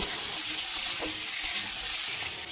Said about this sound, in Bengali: এখানে আমরা প্রথমেই আলু আর কুমড়োটাকে দিয়ে দেব গ্যাসের ফ্লেমটাকে মিডিয়ামে রেখে দু তিন মিনিট সময় নিয়ে আলু কুমড়োটাকে একটু ভেজে নেব